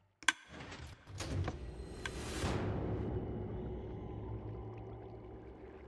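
Minecraft custom drowsy difficulty sound effect, a lever click followed by a soft descending swoosh and a low sustained droning tone that fades, quiet and alone with no talking.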